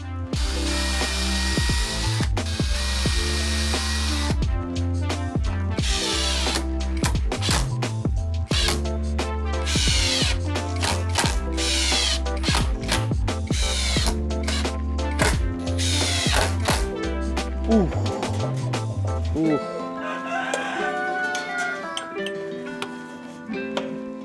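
A power drill driving screws into wood whirs in bursts with rising and falling pitch, a loud mechanical grinding that repeats several times before trailing off into quieter rattling.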